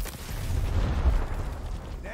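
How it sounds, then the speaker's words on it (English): A frag grenade explodes in the video game Gears Tactics as one deep, rumbling boom swelling and fading over about two seconds, heavy in the low end and close. "Throwing frag."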